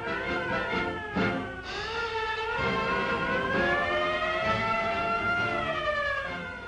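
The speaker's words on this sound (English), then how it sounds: "French seamen are called to battle stations by the wail of sirens" Several warship sirens wail together aboard French naval ships calling crews to battle stations, their pitches rising and sliding in overlapping tones, loud and continuous.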